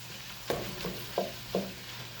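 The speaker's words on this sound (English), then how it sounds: "we want to cook the hamburger until it's no longer pink." Ground beef sizzles quietly in a pot under a soft steady frying hiss, with a few scraping stirs at irregular intervals.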